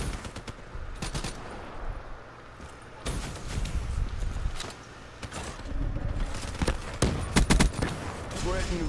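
VRN gun firing in a first-person shooter video game, repeated sharp gunshots in bursts over a constant battle din, with a voice talking in between.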